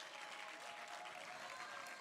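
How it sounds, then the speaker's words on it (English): An audience gives a panel sustained applause at a conference, a dense, even patter of many hands clapping at moderate distance for the whole stretch. "A big clap for this magnificent panel"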